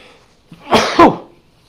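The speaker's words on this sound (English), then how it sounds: "I don't know why I've been sneezing like this the past couple of days" A single sharp sneeze from a man, a quick intake of breath followed by a loud, close burst, then quiet.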